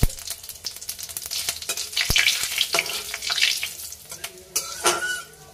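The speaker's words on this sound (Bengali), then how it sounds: "তো ফোড়নের জন্য আমি দেব অল্প করে জিরে, গোটা জিরে, তার সাথে দেবো দুটো শুকনো লঙ্কা" Whole cumin seeds and two dried red chillies sizzle in hot oil as tempering for a rohu fish curry, a steady close crackling fry with stirring scrapes and bursts of louder spitting.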